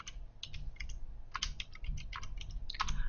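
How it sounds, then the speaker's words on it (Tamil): Someone types on a computer keyboard at close range, producing a quick irregular run of light key clicks over a low background rumble, with no talking. "இங்கே ஐஸ்லேண்ட்னு டைப் பண்ணுறேன்"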